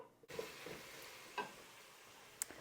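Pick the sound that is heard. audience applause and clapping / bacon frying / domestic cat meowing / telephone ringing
bacon frying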